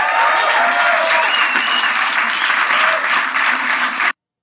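An audience at a comedy skit claps and cheers in sustained, dense applause for about four seconds before it cuts off abruptly.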